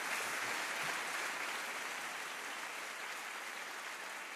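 Audience applause at a French comedy stage show, a steady, even wash of clapping that is faint and distant, heard alone without talk.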